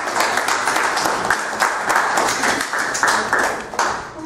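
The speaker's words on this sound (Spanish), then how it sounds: "Fuertes aplausos" Guests at a civil wedding ceremony break into loud, sustained applause, dense clapping from a crowd filling the room throughout without a break.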